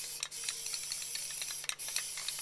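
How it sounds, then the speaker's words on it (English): Short hissing bursts of aerosol high-temperature stove paint sprayed onto a food smoker, several quick sprays in a row with brief pauses between them, close by. "Now I'm spraying this with a special high temperature stove paint"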